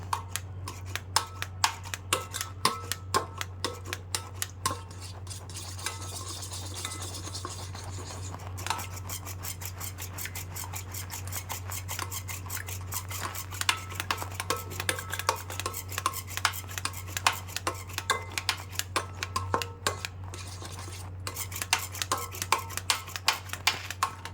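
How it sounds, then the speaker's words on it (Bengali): A hand blender beats two eggs in a bowl for egg pudding, producing a steady low motor hum with rapid, continuous clicking and tapping against the bowl throughout. "এখানে আমি যে ডিম দুটো নিছি, এই ব্লেন্ড দিয়ে হ্যান্ড ব্লেন্ড করে নেব।"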